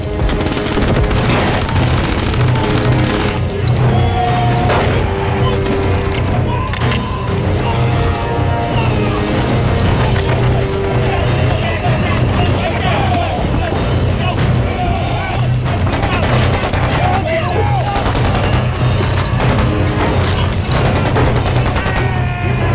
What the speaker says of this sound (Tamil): இது என்ன உண்மையான துப்பாக்கியா இல்ல தீபாவளி துப்பாக்கியா